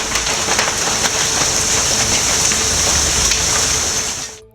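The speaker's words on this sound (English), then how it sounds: "NW Oklahoma City, hailstorm lasted about 15 minutes." A hailstorm in northwest Oklahoma City, with hailstones from pea to baseball size, makes a dense, steady clatter that pounds continuously and loudly up close, with scattered sharper impacts, before cutting off at the end.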